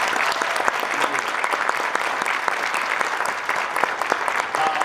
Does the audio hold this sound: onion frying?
no